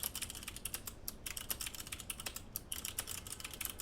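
Rapid typing on a mechanical keyboard with clicky, crisp switches, close and distinct keystrokes in quick irregular bursts with short pauses, no voices.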